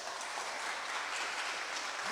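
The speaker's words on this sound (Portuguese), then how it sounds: "Quantos podem dar um aplauso ao Senhor Jesus por isso?" A church congregation gives sustained applause during a sermon, with dense, steady, fairly distant clapping that fills the space without a break.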